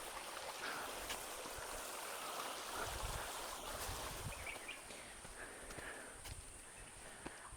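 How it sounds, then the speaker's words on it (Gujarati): A small stream flows beside a Hanuman temple in a natural setting, its soft, continuous trickle and babble steady and fairly faint, with no one speaking. "ખૂબ જ સુંદર મજાનું ઝરણું છે"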